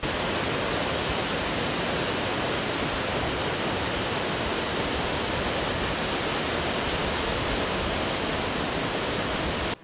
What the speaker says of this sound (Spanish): Estamos llegando a la zona de la cascada.